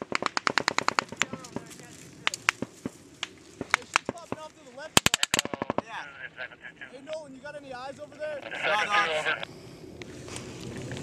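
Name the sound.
machine gun fire during firefight in Afghanistan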